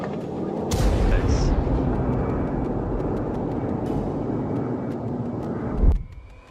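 A GAU-8 Avenger seven-barrel autocannon fires a long continuous burst, a dense deep roaring buzz that holds for about five seconds before cutting off, with a low boom at the end.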